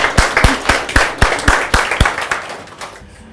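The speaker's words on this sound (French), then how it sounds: "On l'acclame aussi très fort." An audience claps in a room, with sharp, evenly spaced hand claps that are fairly loud and close, dying away after about three seconds.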